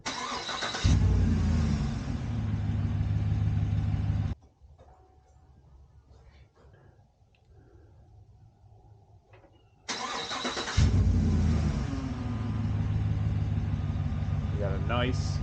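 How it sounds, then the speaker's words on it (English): A pickup truck's engine cranks and starts, then runs at a steady idle, loud and close, with people talking over the running engine; a quieter stretch without the engine falls in the middle. "we're going to start the truck up"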